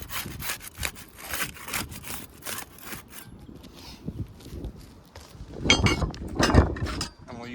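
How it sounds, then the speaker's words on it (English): Putty knife working under roof shingles to unseal them, giving repeated scraping and rasping strokes, close and rough, with a louder burst of scraping near the end. "Use the putty knife to unseal the top shingles"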